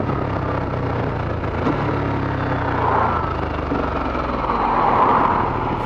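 An aircraft heard from an aircraft viewing area beside a car park, a steady low rumbling engine drone that swells gently and holds throughout, moderately distant with no talk.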